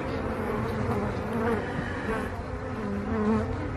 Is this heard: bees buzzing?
yes